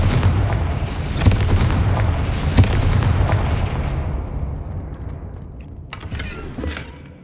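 Repeated fiery blasts from the Confringo spell in Hogwarts Legacy, loud booming bursts that thunder in quick succession and then trail off into a rumbling decay, with a few sharper cracks near the end.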